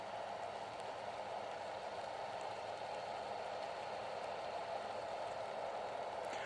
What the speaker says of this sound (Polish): No a bardziej słyszycie deszcz to śnieg.